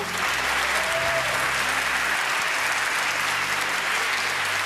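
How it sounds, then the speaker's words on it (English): Loud, continuous applause from a crowd at a young inventors awards ceremony, honouring an inventor's family; thick and unbroken from start to end with no clear voices. "Big applause to the family."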